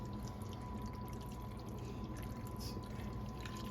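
Starchy pasta water poured into a pan of homemade mac and cheese makes a faint, steady, hissing pour that runs unbroken throughout.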